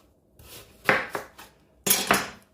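A knife scrapes and slices the skin off a carrot in a few close, crisp strokes: two short bursts, then a pause and two more sharp cuts, with no one talking.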